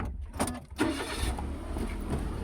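A Japan-surplus Nissan car engine cranks and catches with a couple of quick bursts, then settles into a steady, close idle with no talking.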